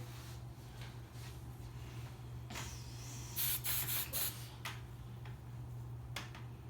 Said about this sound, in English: Hairspray the braid.